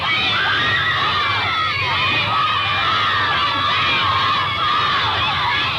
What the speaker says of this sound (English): There are crowds everywhere they go.